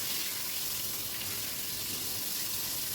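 Tomato pieces fry in hot oil in a wok, giving a steady, even sizzling hiss at low volume with no break.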